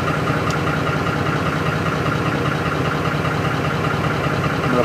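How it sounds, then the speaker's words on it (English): An electric fuel pump on a 2004 Ford F-150 with a 5.4L engine runs continuously with a bypass jumper wire fitted, a steady, dense, close hum and whir that holds unchanged with no talk over it. "right now this pump is running full time"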